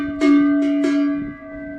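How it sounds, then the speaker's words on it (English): Bells rung by hand at a castle bell-maker's workshop, three ringing strikes in quick succession with a sustained metallic tone that lingers and fades, fairly close and with no talking. "Eve rings the bells."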